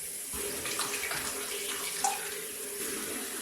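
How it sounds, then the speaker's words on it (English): Tap water runs steadily into a cooking pot that is more than half full, a continuous close hiss and splash with a brief louder gurgle partway through and no talking. "more than halfway full with water. And while that is filling up"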